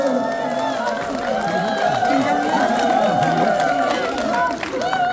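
Crowd at a citizens' talk concert in Gwangju cheering and clapping, with loud overlapping voices and shouts over scattered applause.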